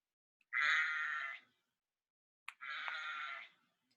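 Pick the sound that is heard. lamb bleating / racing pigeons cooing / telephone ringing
lamb bleating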